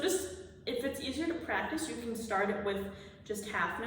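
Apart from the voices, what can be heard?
No everyday noises stand out.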